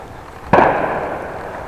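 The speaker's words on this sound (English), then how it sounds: "fireworks." A single sharp firework bang bursts out, followed by a fading crackling rumble against a quiet outdoor background on an unlit bike lane at night.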